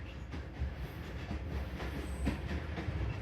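A train rolls slowly along the Lahore to Narowal railway in Pakistan, giving a steady, close rumble with a continuous rattle and clatter from the wagons and no voices.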